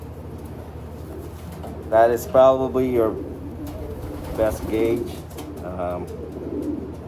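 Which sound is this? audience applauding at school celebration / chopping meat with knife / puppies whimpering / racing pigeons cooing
racing pigeons cooing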